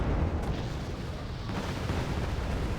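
Long-range artillery fire support pounding targets in the war strategy game Wargame Red Dragon, a continuous loud rumbling barrage of overlapping explosions and booms with no pauses, heard alone.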